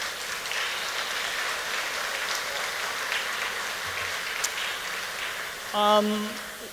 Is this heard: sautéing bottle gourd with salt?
no